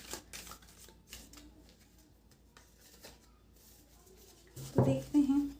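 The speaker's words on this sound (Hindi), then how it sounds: "इसलिए मैं लाइव शफलिंग करती हूँ ताकि कैमरे में आप लोगों की एनर्जी इन कार्ड्स में शफल हो सके।" Tarot cards are shuffled by hand in a series of soft, papery riffles and slaps close by, followed by a couple of louder voiced sounds at the end.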